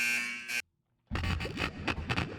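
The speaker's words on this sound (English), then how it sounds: "now it's playing something different, which is basically alarm sound effects" Harsh electronic alarm sound effects play inside a Roblox game, a dense buzzing tone that cuts off to silence, then returns as loud distorted, pulsing alarm noise with no talk.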